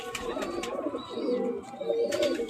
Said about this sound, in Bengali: পায়রাগুলো সবই ম্যাড্রাস পায়রা